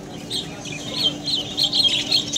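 Budgerigars and other caged birds at Srirampur bird market chatter in quick, bright chirps and squawks that rise and fall in bursts over a low market hum.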